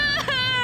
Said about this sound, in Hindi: किसी औरत के रोने की आवाज आ रही है